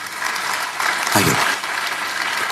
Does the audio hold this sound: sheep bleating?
no